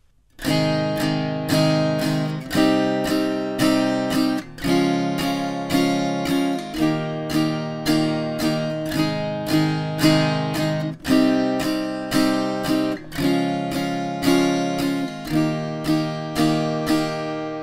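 An acoustic guitar strums chords in groups of four even down strums per chord, a steady post-chorus pattern played up close with bright, ringing tones and no talking.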